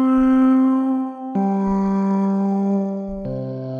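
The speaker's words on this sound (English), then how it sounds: "I can just play a note on my Blofeld" Notes played on a Waldorf Blofeld synthesizer: three sustained, harmonically rich tones with bright overtones, each slowly fading before the next, with a short low pulsing burst near the start of each.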